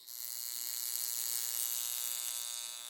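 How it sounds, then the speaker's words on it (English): A high frequency facial machine hums after being switched on, a steady thin electrical buzz that stays constant and fairly quiet, close by, with no voices. "So let's turn it on."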